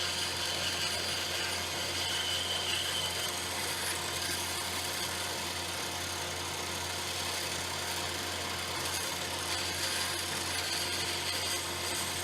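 A power saw cuts a wooden pen blank held in a Celtic knot pen blank jig, giving a steady, loud, unbroken whine and buzz that holds for the whole stretch with no talking.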